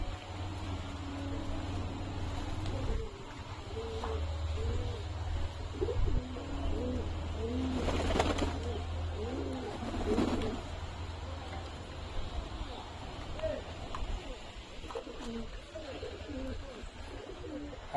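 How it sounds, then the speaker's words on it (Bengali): Pigeons kept in a home loft coo repeatedly in soft, rhythmic bursts close by, layered over a steady low background hum with no talking. "অনেক পায়রা স্নান করা হয়ে গেছে"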